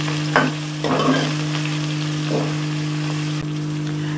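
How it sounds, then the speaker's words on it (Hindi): Chopped onions fry in hot oil for a keema matar dish, a loud continuous sizzle with a few scraping stirs near the start, over a steady low hum from the stove. "अब इन्हें हम हल्का सा गुलाबी होने तक फ्राई करेंगे"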